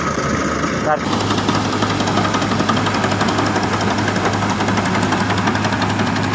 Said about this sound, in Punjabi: ਵਧੀਆ ਪਰਫਾਰਮੈਂਸ ਚੱਲ ਰਿਹਾ ਟਰੈਕਟਰ ਵਧੀਆ